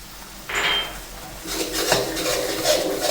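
Coconut cream being stirred into red pork sauce in a pot, with a spoon scraping and clinking against the metal in a steady, close stirring rhythm that starts after a brief pour.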